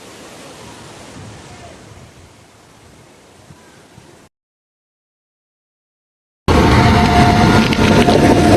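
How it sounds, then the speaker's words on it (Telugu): Steady broadband rush of a waterfall near a village, loud and continuous at close range, cutting in abruptly after a quieter stretch of outdoor ambience and a brief silence. "ఇప్పుడు చూపిస్తా వాటర్ ఫాల్."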